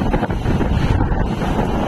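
Strong wind roaring across the open sea aboard a small fishing boat amid high waves, a loud continuous rumble and gusting microphone buffet with the wash of water underneath.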